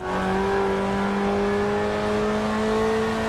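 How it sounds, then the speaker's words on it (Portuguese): Interior engine sound of a car in the racing video game Forza Horizon 4, a steady loud droning hum whose pitch creeps slowly upward, heard alone without talk. "Ó como muda o barulho do motor."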